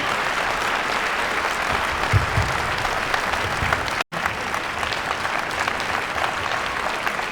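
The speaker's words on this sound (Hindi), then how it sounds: "जोरदार तालियों से इनका स्वागत किया जाए।" Loud, continuous applause from a large audience at a parenting seminar in Delhi's Talkatora Stadium welcomes a speaker. The dense clapping stays steady throughout, with a brief dropout midway.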